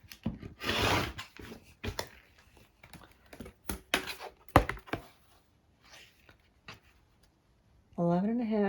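Rotary cutter trimming a T-shirt quilt block to 11.5 by 10.5 inches, a string of short crisp cuts and taps against a ruler and mat, close and moderately loud, with a voice speaking at the end.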